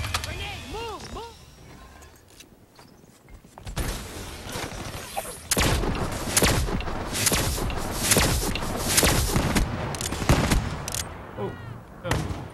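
Loud bursts of video game gunfire with heavy explosive thuds from a grenade blast, dense and continuous through most of the stretch after a quieter opening, with voices talking beneath the combat.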